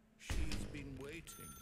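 A telephone rings faintly in the background while voices speak over it, the tone lingering softly under the talk.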